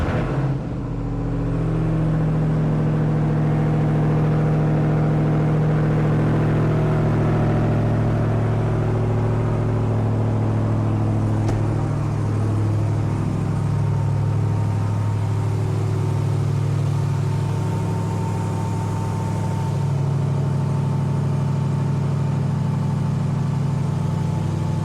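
A Ram TRX truck with a supercharged engine runs steadily at idle, producing a loud, close, continuous low rumble with a slight rise in the middle and no speech.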